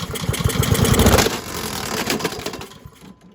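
An old, free lawn mower engine sputters to life and runs roughly, loud and close, with a choppy pulsing beat that steadies and then fades toward the end.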